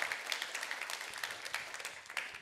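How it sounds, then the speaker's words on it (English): An audience claps for a Hall of Fame honoree at a school event, a brief, moderately distant patter of applause with no talk over it. "Give her a clap."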